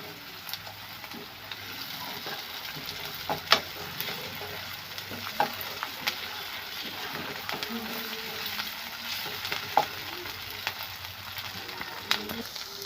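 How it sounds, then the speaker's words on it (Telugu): Onions fry with ginger-garlic paste in a pan for a spiced ivy gourd curry, a constant close sizzle broken by scattered clinks and scrapes of stirring, with no voices. "ఇందులోనే కొద్దిగా అల్లం వెల్లి పేస్ట్ వేసుకుంటామండి. ఒకసారి అయితే ఫ్రై చేసుకుందాం."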